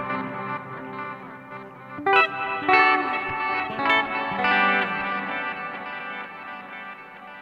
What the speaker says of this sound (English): I can just switch over to the reverse mode.